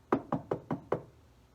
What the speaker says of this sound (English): Soon after, he heard someone knocking.